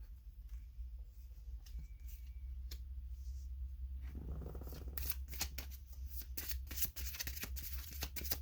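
Tarot cards being shuffled make a soft riffling, scraping sound in the second half, close and quiet after a faint, mostly still opening.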